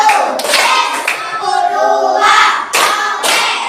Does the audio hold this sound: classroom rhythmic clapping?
yes